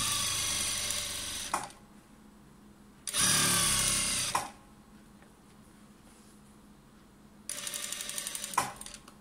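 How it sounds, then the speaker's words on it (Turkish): A home sewing machine stitches elastic onto a pencil skirt in three separate runs, each a loud, steady mechanical whir that starts and stops abruptly, with quiet pauses between. "lastiğimin işaretiyle eteğimin işaretini birbirine denk getirerek şu şekilde tutuyorum ve lastiğimi dikiyorum"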